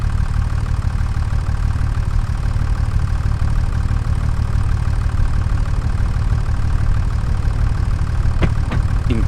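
A tractor engine idles in Farming Simulator 25, a steady, dense low rumble with a faint mechanical knock that continues unchanged, and a couple of brief clicks near the end.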